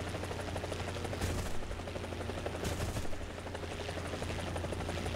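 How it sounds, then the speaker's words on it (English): Helicopter autocannon fire from a 20 mm gun in the War Thunder game, heard as a loud steady rotor drone with dense rapid bursts of gunfire on top and brief surges near the first and third seconds. "When I click, there goes the 20 millimeter."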